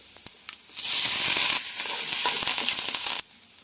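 Mustard seeds and turmeric hit hot oil with a few light ticks, then a sudden loud sizzle that runs steadily for about two seconds before cutting off sharply, leaving scattered crackles.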